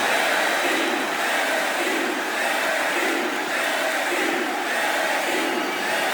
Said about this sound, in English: Didn't it give you a rush to hear the fans cheering and chanting for you?